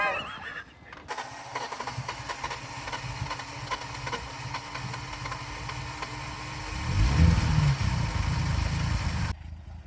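A BMW E46 car engine idles at 500 rpm with a steady low rumble, growing louder and rougher toward the end before cutting off abruptly.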